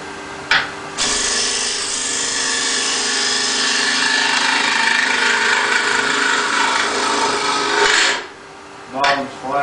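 A lathe tool cuts across the bottom of a spinning wooden turning to flatten it, giving a steady, loud scraping rasp for about seven seconds, with brief tool contacts before and after.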